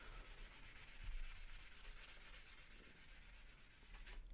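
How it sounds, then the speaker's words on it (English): A sanding block rubs over dirty salvaged handles in a continuous, quiet scratchy rasp with a faint back-and-forth rhythm, close up and without speech. "I'm just cleaning them up with a sanding block"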